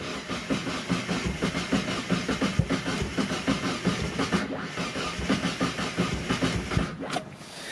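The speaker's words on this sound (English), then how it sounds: "we should be good to start this car" A turbocharged Mazda Miata engine cranks in a steady rhythmic churn after sitting through winter, catching near the end, loud and close with no voices.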